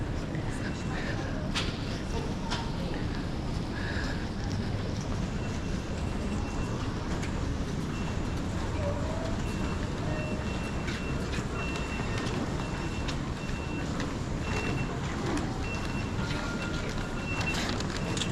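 A train travelling in the UK rumbles and rattles steadily in the background, with a few faint beeps, while a person talks over it the whole time.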